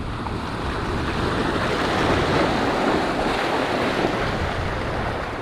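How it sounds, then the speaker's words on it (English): A big ocean wave rolls in and crashes near an abandoned pier during shore fishing, a loud, sustained surging roar that swells and then eases, with heavy wind buffeting throughout. "That's a big old wave."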